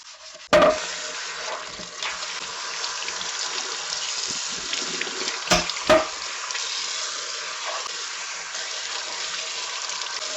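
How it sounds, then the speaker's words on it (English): Tap water runs steadily into a kitchen sink while a burnt-bottomed pot is washed with dish soap, a continuous close hiss broken by a few sharp knocks and clatters of the pot. "I'm going to use a dish soap and to wash it"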